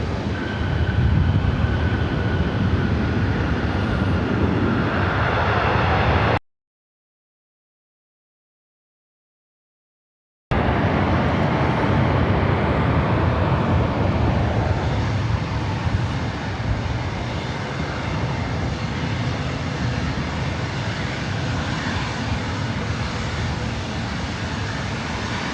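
Jet aircraft taxiing and flying at LAX airport give a steady, loud broadband engine roar that runs almost without a break, with a short gap of silence partway through.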